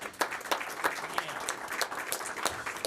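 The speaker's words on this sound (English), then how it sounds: "If we could give them a round of applause" An audience at a city council meeting applauds graduating high school students, a sustained patter of many hands with sharper individual claps standing out, heard from a moderate distance in a large room.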